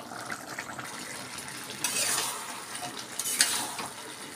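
Rice boiling in a pot of muri ghonto, with a steady close bubbling hiss that swells in two louder surges.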